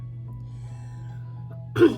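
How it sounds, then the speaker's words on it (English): A single short cough near the end, close to the microphone, breaks an otherwise quiet stretch with a faint low hum. "I'm coughing a lot right now"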